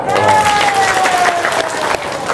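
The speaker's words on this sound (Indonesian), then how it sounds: "Tepuk tangan dong." An audience claps loudly and steadily on cue for a brief moment, with a faint sustained tone and some murmur beneath the clapping.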